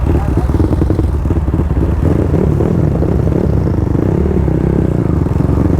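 A motorcycle fitted with a carbon exhaust pipe runs loud and close, holding a steady, throaty engine note the whole time, with voices faintly mixed in.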